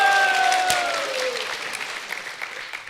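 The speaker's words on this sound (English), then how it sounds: "Give him a big round of applause" An audience at an ISKCON Kathmandu kirtan and talk applauds a translator, a dense burst of many hands clapping that starts loud and slowly thins and fades over about three seconds.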